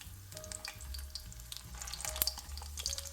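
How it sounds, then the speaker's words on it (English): Guo Kui, a Chengdu-style flatbread, fries in oil in a pan, giving a steady low crackle with scattered brighter pops and a faint tonal hum throughout. "Fry it for about a minute or 2 until both sides are golden."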